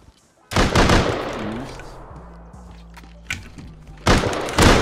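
Gunfire in the survival game Rust: loud sharp shot bursts open and close the stretch, with quieter shots and game sounds between them, close and punchy.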